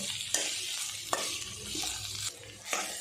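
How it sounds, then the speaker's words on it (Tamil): Potatoes frying with masala powder in a pan over low flame, a steady sizzle broken by several scraping stirs and occasional clinks of the spoon, close and without talk. "லோ ஃப்ளேம்லேயே ரெண்டு மூணு நிமிஷம் நல்லா ஃப்ரை பண்ணிவிட்டு"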